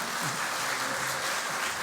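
A church congregation at a Sunday service gives warm applause welcoming a pastor, a steady, even roar of clapping with a faint tonal murmur underneath.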